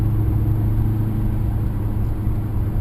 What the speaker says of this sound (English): This is the last naturally aspirated V8